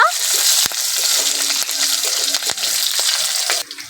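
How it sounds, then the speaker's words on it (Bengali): Panch phoron spices and green chilli fry in hot oil, giving a dense crackling sizzle with a few sharp pops and spatters, close and loud from start to finish. "ফোড়নটা ভালো করে ভেজে নেব"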